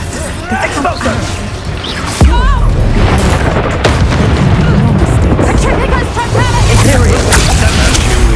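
An Expulso spell in Hogwarts Legacy sets off a loud booming blast that rolls into sustained crashing rumble, mixed with combat effects and a character's voice.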